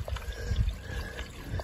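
A small Appalachian Trail stream trickling and pouring as a water source, a steady close liquid babble with soft low splashes and no voices.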